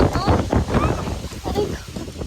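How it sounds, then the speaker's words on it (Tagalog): Strong wind buffets the microphone with a steady rumbling roar and gusty rushes, loud and continuous throughout. "lakas ng hangin dito"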